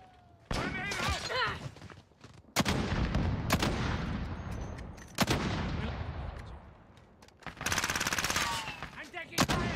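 Gunfire from a Call of Duty Modern Warfare multiplayer match, with loud close bursts of automatic fire, sharp single shots and heavy thuds, layered under shouted in-game callouts.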